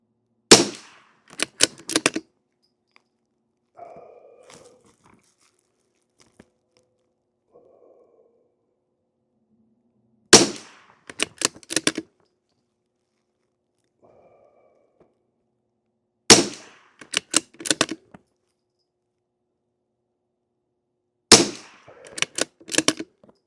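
Rifle shots firing CCI SV ammunition with a beef tallow and beeswax lube, heard as four sharp cracks spaced several seconds apart, each followed by a short burst of clatter, with quiet gaps between.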